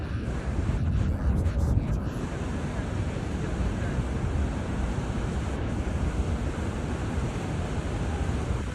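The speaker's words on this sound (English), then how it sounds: "A large wave crashed onto rocks" A large wave crashes onto rocks at a beach and sweeps over them. A loud, steady roar of surf and rushing water fills the whole stretch, with wind buffeting the microphone and no voices.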